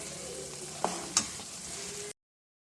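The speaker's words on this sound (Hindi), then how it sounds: "अब हमने इसको थोड़ी देर और पकाना है जब तक कि ये अपना घी जो है वो निकाल दे" Suji halwa cooking in ghee in a pan, a steady low sizzle with a couple of sharp utensil clinks, then cutting off abruptly into silence.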